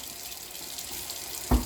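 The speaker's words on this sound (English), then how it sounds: "I'm going to just run the blade, both sides, under the water" Running tap water over a razor blade at a sink, a steady close splashing stream ending with a sudden louder clunk, no talk.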